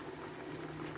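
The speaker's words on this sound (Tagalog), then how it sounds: "Bakit hindi pantay ang kulo?" Vegetable soup for Filipino dinengdeng boils in a pot, a steady low bubbling simmer with a soft continuous hiss, close and fairly quiet, with no talking.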